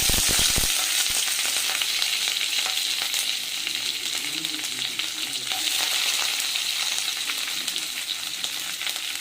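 Fennel seeds, onion, green chilli and curry leaves hit hot oil for a vegetable masala Maggi, bursting into sharp crackles at first, then settling into a dense, steady close sizzle.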